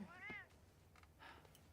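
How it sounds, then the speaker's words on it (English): A pet cat gives a short meow up close, followed by quieter, fainter mewing sounds against a soft background hum. "Oh, that's my kitty."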